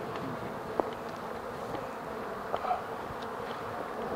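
Honeybees buzz steadily around an open KTB (Kenyan top-bar) hive during colony division, a soft continuous hum at close range with a few brief louder passes of individual bees.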